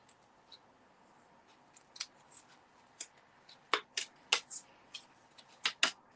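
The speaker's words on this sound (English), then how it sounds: "let's just fussy cut this little one" Small scissors fussy cutting around a little stamped paper image, making a series of quiet, close snips in an uneven rhythm that get sharper toward the end.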